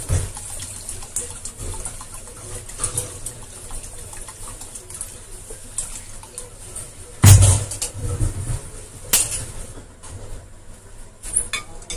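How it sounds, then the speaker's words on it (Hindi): Water is poured into a spiced pani puri water mix in a kitchen, giving a gentle continuous trickle and splash. Two louder splashing bursts stand out near the end. "इसमें हम पानी और डाल देते हैं"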